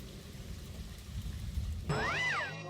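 Steady rain patters continuously, joined near the end by a rising and falling electronic whooping tone over the downpour.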